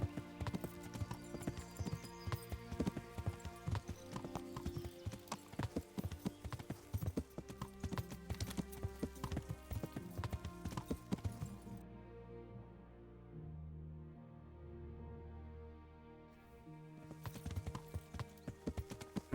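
Horse hooves clip-clop in the medieval game Kingdom Come, a brisk, regular trot of sharp hoof strikes close up, briefly easing to a softer passage before resuming, with background music tones and no talking.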